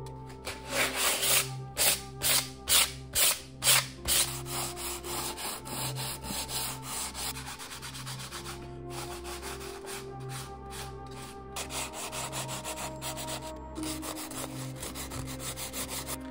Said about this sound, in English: Now that I've got everything sanded down nice